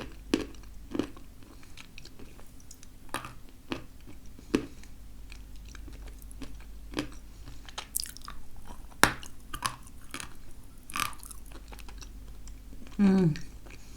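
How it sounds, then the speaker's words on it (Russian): Biting and chewing a piece of Raduzhnaya Kyrgyz variety, with sparse close crisp clicks and soft crunches scattered over a quiet hiss and a brief louder squish near the end. "Я сейчас хочу закусить радужный, еще позволить себе съесть один кусочек, сгрызть."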